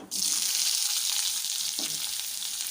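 Two large chopped onions drop into a hot pan with fenugreek for a Mangalore chutney, setting off a sudden loud burst of sizzling that holds as a dense, steady hiss with one brief knock.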